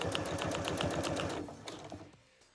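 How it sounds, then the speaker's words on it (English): A domestic sewing machine stitches a stretched waistband onto skirt fabric in a quick, close run of needle clatter that slows and fades out within a couple of seconds. "Now we're going to go to the machine and stitch."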